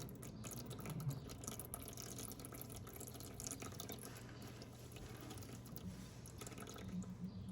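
Dry beans being washed in water at a kitchen sink, a quiet continuous trickle and swish of running water with soft splashes and drips, close and steady with no talk.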